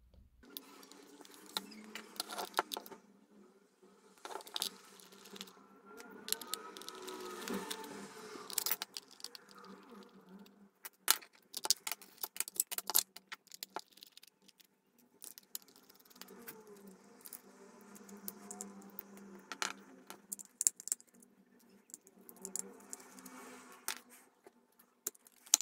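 An original Game Boy is taken apart by hand, with small plastic clicks, ticks and faint scraping of tiny screws and parts close up against a quiet room, in irregular bursts and without speech.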